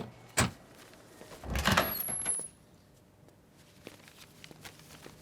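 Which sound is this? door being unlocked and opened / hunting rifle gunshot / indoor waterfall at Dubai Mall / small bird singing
door being unlocked and opened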